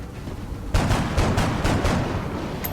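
Gunfire in XCOM: Enemy Unknown, a short volley of about five rapid, evenly spaced shots over a steady background rumble, loud and close.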